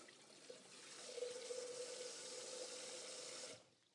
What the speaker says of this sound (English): so I'm going to pop a bit of water in here.